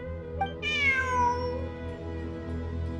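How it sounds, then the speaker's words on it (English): A cat in Genshin Impact gives one drawn-out meow, bright and upfront over a steady low game music bed, with no talking. "Look! A cat!"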